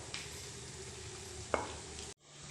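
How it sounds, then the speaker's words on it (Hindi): Namak pare snacks frying in oil in a kadhai make a steady, soft sizzle with a sharp stir or scrape about halfway through, then a brief break before the sizzle returns. "हम बाकी के बचे हुए नमक पारे को भी फ्राई कर लेंगे"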